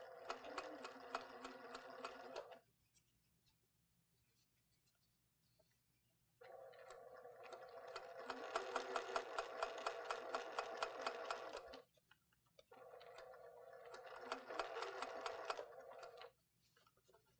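A sewing machine stitches quilt fabric in three sustained runs with a rapid, even mechanical patter, separated by quiet pauses.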